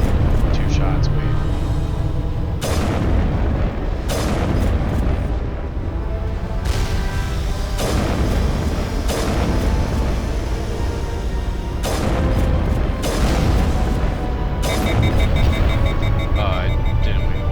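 Weapon fire and explosions from the Mass Effect game come in repeated heavy bursts of booming blasts, with a voice talking over the action throughout.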